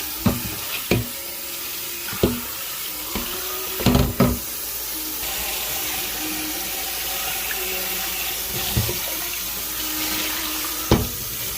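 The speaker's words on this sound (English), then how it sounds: "I'm gonna go ahead and rinse this out" Water runs from a kitchen sink tap while something is rinsed out, a steady broadband rush under sharp clinks and knocks of dishware against the sink, no one talking.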